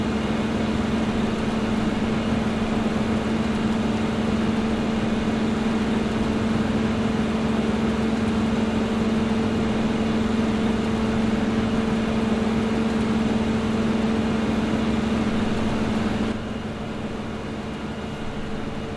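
Combine harvester engine running while harvesting barley in Farming Simulator 2015, a steady loud droning hum with a strong low tone, constant throughout and dropping slightly in level near the end, with no voices.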